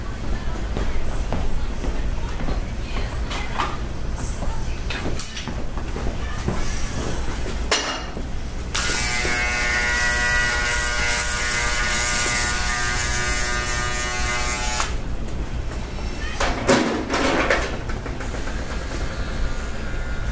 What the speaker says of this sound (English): I'll use the foil shavers on it.